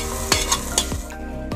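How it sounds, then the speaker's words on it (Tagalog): Garlic sautés in a brand-new cooking pot outdoors, a steady loud sizzle broken by several sharp scraping stirs of a utensil against the pot, with no talking. "Gigisa po tayo ng bawang."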